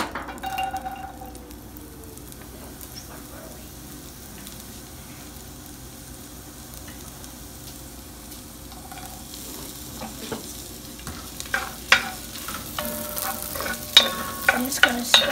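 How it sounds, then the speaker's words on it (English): Onions, garlic and celery frying in a hot pan while being stirred, a steady low sizzle that grows busier toward the end with sharp scraping and clinking clicks from the spoon. "I'm just gonna stir as she adds"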